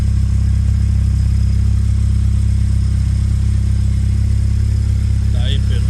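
The engine of a Triway motor tricycle runs steadily, a loud, even low-pitched idle drone that continues throughout, close to the listener.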